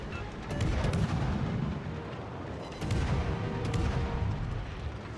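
Heavy naval guns fire in a World of Warships-style battle from the French cruiser Mogador, two deep booming salvos rumbling and rolling out, loud and close with no talk.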